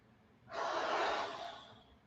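During a floor-based strength exercise, a person takes one deep, breathy inhale lasting over a second. It is heard close up and alone, then fades out.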